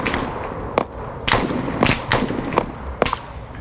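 Gunfire in the military shooter Arma 3, a series of sharp, spaced reports about every half second over a dense, steady background, sounding moderately close.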